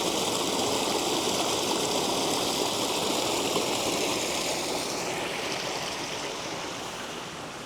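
Stream water pours and gushes steadily near Benamahoma, a continuous close-up rush with no voices, gradually easing a little in loudness over several seconds.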